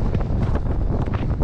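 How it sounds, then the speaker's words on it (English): Strong wind in Death Valley buffets the microphone with a loud, continuous rumbling roar. "But also pretty windy"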